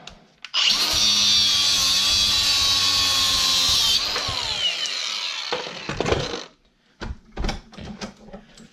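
A power tool cuts a steel emergency brake cable held in a vise, a loud, close, high whine that runs for several seconds, then slows down, followed by clattering and handling noises.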